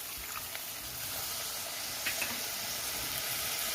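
Water poured into a pan of sizzling spices with dried chilli powder for a prawn and pointed gourd curry gives a steady close hiss of steam and sizzle, swelling briefly midway and then settling into constant bubbling.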